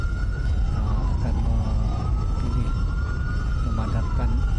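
Fire truck sirens wail at night during the Los Angeles wildfire as a line of fire engines passes. The rising and falling tones overlap and stay loud and continuous over a rumble of traffic.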